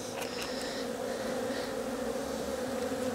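Honey bees buzz around an Abelo poly hive, a continuous close droning hum with many overlapping wings, steady and fairly loud, with no talking.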